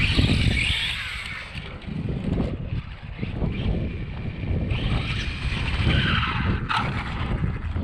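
A Traxxas Slash RC car built as a no-prep street eliminator spins its tires on cold pavement during a test hit, giving a sustained whining, scrubbing rush with a brief sharp spike near the end and no talking.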